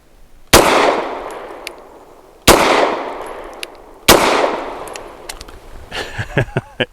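A Grand Power K100 Mk23 pistol fires Speer Lawman 147 grain rounds outdoors: three loud, sharp shots spaced about two seconds apart, each with a ringing decay, followed by faint clinks.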